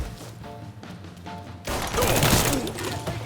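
Gunfire in a Mafia 3 cutscene: a quieter stretch of tapping and clatter gives way after about a second and a half to a loud, dense burst of shots and crashing noise that fills the rest.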